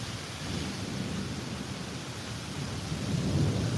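A thunderstorm rolls with deep rumbling thunder and steady rain noise, a continuous dense roar that swells slightly toward the end, no voices.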